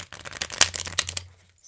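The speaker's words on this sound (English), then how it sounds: "I'm going to shuffle these cards just a little bit more." A deck of tarot cards is shuffled by hand in a quick, close riffle of crisp flicking snaps that builds and then trails off, with no talking.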